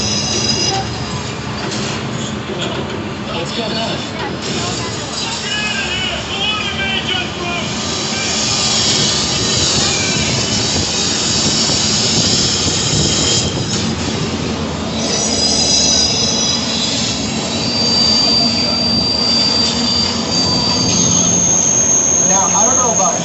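A Universal Studios Hollywood tram ride stages a simulated 8.3-magnitude earthquake, a loud, sustained rumbling roar with screeching metallic squeals of rail wheels and crashing effects building over time, while a voice speaks briefly.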